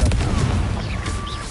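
A Confringo fire-blast spell bursting in Hogwarts Legacy: a heavy, low boom at the start that rumbles and fades over a second and a half, with faint whooshing tones above, close and alone.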